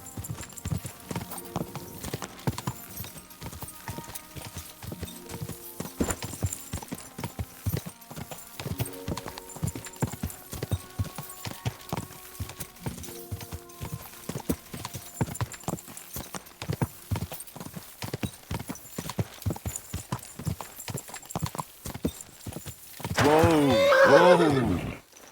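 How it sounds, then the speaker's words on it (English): Steady, rhythmic clip-clop of horse hooves on a hard surface throughout, ending with a loud horse whinny near the close. "That horse is kind of amazing."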